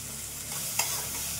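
Food fries in a pan in a home kitchen, a steady close sizzle with the brief scrape of a spoon stirring partway through.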